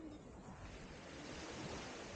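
Gentle sea waves at a beach in Tuscany, a soft, steady wash of surf with a hushed, even noise, faint and continuous, with no voices over it.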